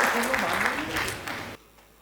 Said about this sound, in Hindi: आपकी तालियां गरजनी चाहिए यहाँ पर